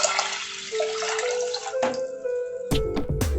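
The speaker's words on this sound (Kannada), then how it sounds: "ಇದೇ ಲೋಟದಲ್ಲಿ 7 ಲೋಟ ನೀರು ಹಾಕ್ಕೊತಾ ಇದ್ದೀನಿ." Water pours steadily into a pressure cooker holding washed rice and lentils for avarekalu khara pongal, a close, continuous splashing stream that ends with a few louder clunks.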